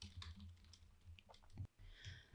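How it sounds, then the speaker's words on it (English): Typing on a computer keyboard at a desk, a run of soft, uneven keystroke clicks close by, with a brief pause and a louder thump near the end. "I really mean what I'm typing here"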